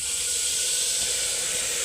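A pressure cooker on the stove lets out steam in a steady, continuous hiss that holds at an even level, close by and without any voices.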